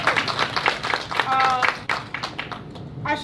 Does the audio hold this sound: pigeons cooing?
no